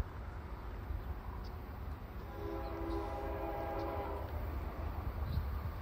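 Freight train I010, Bedford Park to Newark with 280 axles, rumbles steadily past at Hannacroix, a low continuous roar at a distance with faint tonal ringing in the middle.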